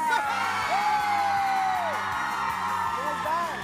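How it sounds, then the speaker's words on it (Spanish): A studio audience on a Spanish-language TV show cheers and whoops loudly over sustained clapping, with rhythmic music pulsing underneath throughout. "Un fuerte aplauso para Pichas y Cachas."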